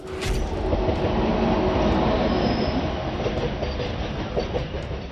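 A train rolls past on the railway track nearby, a loud continuous rumble with squealing wheels and rhythmic clickety-clack of the rails, sustained throughout.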